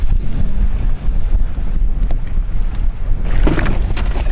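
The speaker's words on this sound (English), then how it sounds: "Wind's blowing in, lots of fronts moving through." Strong wind buffets a fishing boat on open water during a musky outing, a loud continuous roaring rush with gusty microphone rumble.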